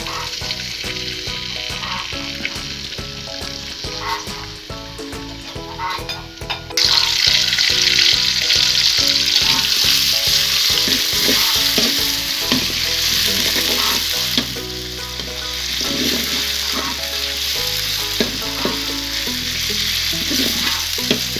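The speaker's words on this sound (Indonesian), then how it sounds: "Kita tunggu sebentar sampai bawang agak layu atau warna agak kecoklatan." Shallots and garlic sizzle steadily in a hot pan at the start of a bean sprout and tempeh stir-fry, a dense crackling hiss that jumps louder partway through and carries on with scraping stirs.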